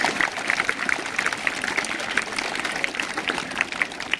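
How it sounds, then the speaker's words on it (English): At a school investiture ceremony, a crowd gives sustained, moderately loud applause for the Yoga Day celebration organizers, many hands clapping in an even wash throughout. "Put your hands together for a beautiful Yoga Day celebration, the organizers for the Yoga Day."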